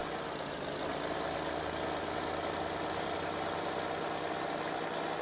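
A tractor engine drives in the game Farming Simulator 15, a steady mid-to-low drone that holds an even, continuous level with no talk over it.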